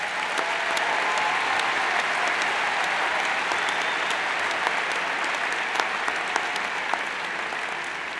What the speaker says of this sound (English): please join me once again in applauding these distinguished graduates